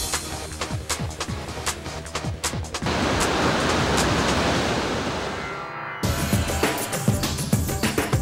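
Ocean surf breaks against a rocky shore at a South African surf spot, a loud swelling roar of whitewater that builds and fades over several seconds amid gusty wind buffeting the microphone, with no voices.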